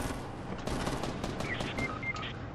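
Gunfire in a Fortnite match crackles as rapid bursts of shots at moderate distance, dense and continuous across the moment with a few brief tonal game blips near the end.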